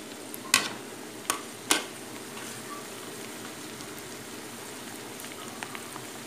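Crushed onions hit hot oil in a pan of jackfruit curry, giving a steady soft sizzle with a few sharp clinks of a spoon early on.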